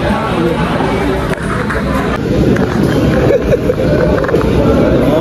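Dense crowd at the Maha Kumbh 2025 gathering, heard as a loud, continuous wash of overlapping voices and movement that never lets up.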